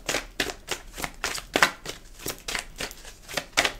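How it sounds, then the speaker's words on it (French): Tarot cards being shuffled during a reading, a steady run of crisp riffling bursts, about eight or nine close rustles in quick rhythm, with no talking over them. "je suis en train de battre les cartes"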